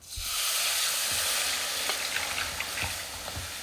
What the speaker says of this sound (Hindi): तो इस तरीके से चलाते हुए एक बार में सारा डाल दें।